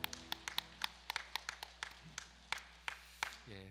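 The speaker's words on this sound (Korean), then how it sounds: "하나님께 감사의 박수 올려드립시다." Congregation at a Sunday church service claps in thanks, a sparse run of individual hand claps at an irregular, fairly quick rhythm, with no talk and a faint tone rising at the end.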